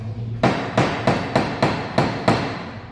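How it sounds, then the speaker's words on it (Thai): A hammer drives a nail with seven sharp, evenly spaced blows, each strike loud and close with a quick ringing decay. "เราจะใช้ ค้อนเพื่อ ตอกหรือถอนตะปูเพื่อยึดสิ่งของสองสิ่งเข้าด้วยกันนะครับ"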